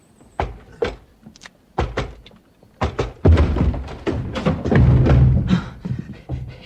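A locked door is being broken down. Several heavy thuds and thumps land irregularly, building into louder, denser banging and rattling, close and forceful, with no talking.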